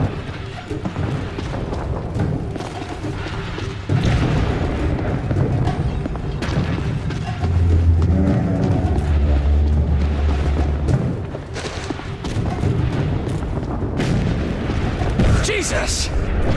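Battle in The Bureau: XCOM Declassified, with heavy booms and rumbling artillery explosions over steady gunfire, loud and continuous throughout, while soldiers shout over the din.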